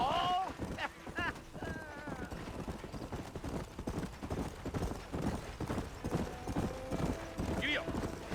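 A horse's hooves clip-clop in a steady, quick rhythm across a Red Dead Redemption ride, joined early by a whinny. A voice speaks briefly under the close, continuous hoofbeats.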